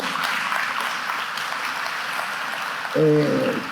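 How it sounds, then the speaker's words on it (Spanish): Congregation applauding in a church service, a steady wash of clapping across the room for several seconds, joined near the end by a brief sustained tone over the crowd. "¿Por qué no les da un aplauso?"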